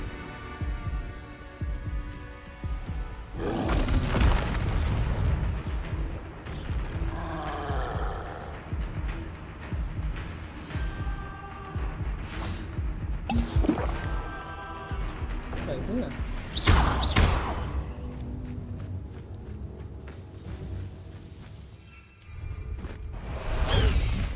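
Explosive spell blasts in the Hogwarts Legacy video game, sharp whooshes and crashing bursts rising out of a busy, continuous game mix with music and effects, a few louder hits standing out.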